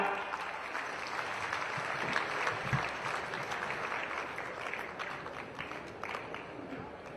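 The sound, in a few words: audience applause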